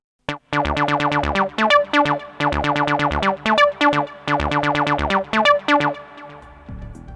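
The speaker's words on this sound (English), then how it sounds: "And finally I created this acid bass line on the Volca bass that sounds like this." Acid bass line played on a Korg Volca Bass synth in a Detroit techno style: a loud, repeating sequence of squelchy, resonant synth notes in a steady rhythmic pattern, with no talking.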